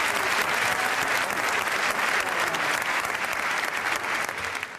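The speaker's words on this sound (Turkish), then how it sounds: "Alkışlıyoruz arkadaşlar." A television game show studio audience applauds loudly and steadily, a dense clatter of many hands that tapers slightly toward the end.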